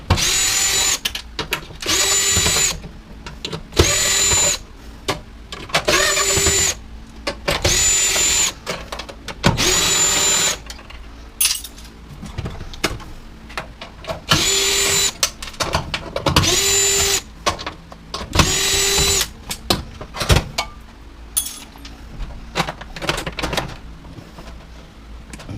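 A power drill backs screws out of a washer/dryer combo during scrapping, giving a string of about nine short, close whirring bursts separated by brief pauses, with no talk.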